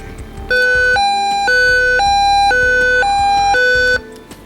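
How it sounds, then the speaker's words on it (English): A loud electronic alarm tone from a WeatherX RWB8817DT weather radio, alternating between two pitches in a steady repeating pattern, played close for several seconds before cutting off. "That's the same siren noise that it makes when you missed an alert for 10 days"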